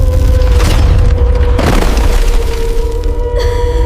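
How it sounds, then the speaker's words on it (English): An earthquake hitting a hotel: a loud, deep rumbling boom with crashing and breaking sounds over it, continuous and close for a few seconds. "It is an earthquake! A big earthquake!"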